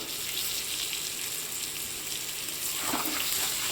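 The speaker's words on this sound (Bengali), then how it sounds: "ভালো করে এটাকে কষিয়ে নেব।" Chili powder and Malabar spinach stems sautéing in a pan, giving a steady close sizzle and hiss throughout with a brief stir-like rustle near the end.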